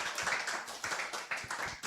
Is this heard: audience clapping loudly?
yes